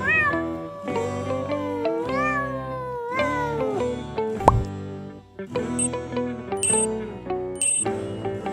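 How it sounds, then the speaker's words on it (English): A cat meowing several times in a row, clear and close, with drawn-out, rising and falling calls and a sharp plop in the middle, no talking. "The correct answer is cat."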